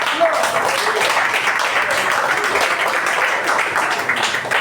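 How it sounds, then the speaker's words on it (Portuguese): A church congregation at a communion service claps hands together joyfully, a dense, sustained wash of many hands clapping at once, loud and even throughout without pause. "Bate as palmas de vitória bem alegre para Jesus."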